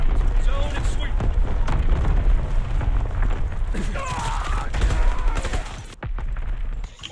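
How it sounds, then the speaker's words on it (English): Artillery and mortar barrages in a war video game, dense rolling booms and gunfire crackle layered continuously and loudly, with voices talking over the battle. "Firing division artillery."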